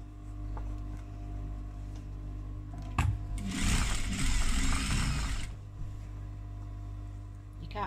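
A sewing machine top stitching a fabric project bag, running steadily for a couple of seconds in the middle with a dense mechanical whir and ratcheting clatter over a constant low hum, close and loud.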